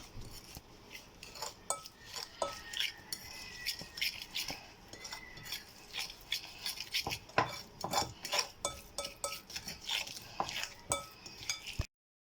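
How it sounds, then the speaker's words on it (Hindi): Chargha marinade ingredients, including oil, lemon and food colour, are mixed in a bowl, with an uneven run of close clinks, scrapes and soft knocks of utensil against dish. "अब हम इन सब चीज़ों को मिक्स कर लेंगे।"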